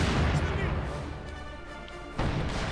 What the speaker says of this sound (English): Nice hit there from the mortar half-track.